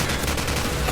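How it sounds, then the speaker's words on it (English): Heavy automatic rifle fire in a Call of Duty 4 weapons demonstration, a dense, loud, continuous burst of rapid shots filling the whole second. "Every time you squeeze that trigger, it sounds like a battery of howitzers going off."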